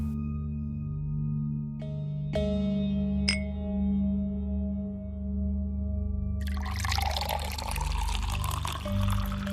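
Drinking water poured in a Malayalam horror film scene: a few faint clinks, then a splashing pour filling a vessel for the last few seconds over a low, steady background hum.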